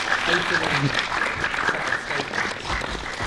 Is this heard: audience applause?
yes